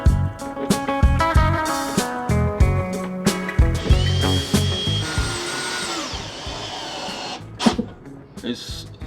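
Power driver sinking 40mm screws through two layers of wood into the deck of an ocean-going catamaran outdoors, with repeated short whirring bursts and a few rising whines, loud and close, and a voice talking between them.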